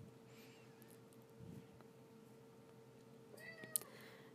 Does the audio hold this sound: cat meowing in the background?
yes